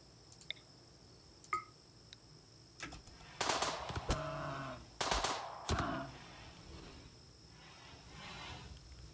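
A few sharp bursts of gunfire in the colony game RimWorld, scattered clicks early on, then louder clustered shots around the middle, fading to quiet ambience.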